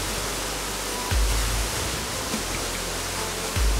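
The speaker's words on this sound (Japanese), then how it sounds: "とてもすごい圧巻の滝でした。" Tanashita Fudo waterfall in Shibukawa, Gunma, heard up close: a loud, steady broadband roar of falling water with no other sounds, apart from a couple of brief low thumps.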